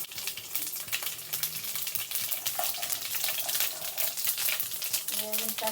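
Mustard and other tempering seeds with a dried red chilli frying in hot oil in a pan for a capsicum potato curry, giving a steady crackling sizzle with fine sputtering pops throughout, fairly close.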